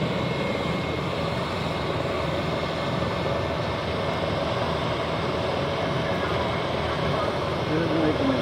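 A life flight helicopter at a hostage scene, its engine and rotor a continuous droning rumble from a distance, with voices talking over it.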